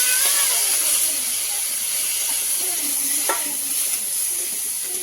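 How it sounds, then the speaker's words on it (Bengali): Crab fries in hot oil with five-spice tempering and dried chillies, giving a strong sizzling hiss that eases slightly after the first second, with faint stirring knocks. "তেলে কাঁকড়াটা যত ভালোভাবে ভাজা হবে তত সুন্দর সেন্ট বার হবে"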